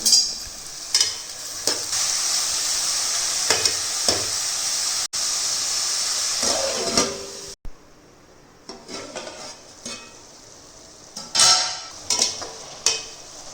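Chopped ridge gourd added to a pan with softened onion and stir-fried, loud hissing sizzle with repeated scraping spatula strokes, quieting partway through before further scrapes.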